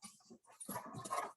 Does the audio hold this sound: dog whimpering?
yes